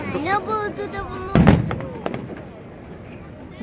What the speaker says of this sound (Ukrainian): Это громкий салют.